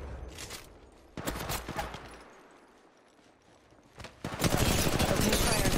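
Automatic weapons fire in the video game Apex Legends comes in two loud, rapid bursts of shots, the second longer and denser, separated by a quieter lull.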